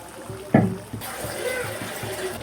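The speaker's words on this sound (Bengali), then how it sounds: "একটু পানি দেব।" Water is poured into a pan of chicken curry, a short splash followed by a steady, close pouring rush.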